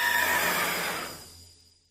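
A loud horse neigh sound effect, a bright, shaky whinny that holds for about a second and then fades away alone into silence.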